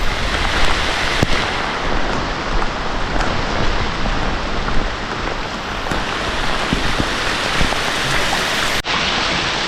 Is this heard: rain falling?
yes